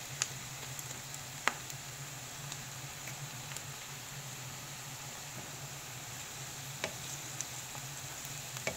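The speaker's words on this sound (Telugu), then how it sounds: "ఫ్రై చేస్తున్నా చూడండి, ఇలాగ బాగా ఫ్రై కావాలా" Ingredients for biryani frying in a pan: a steady, close, even sizzle with occasional small pops and utensil taps, with no talk over it.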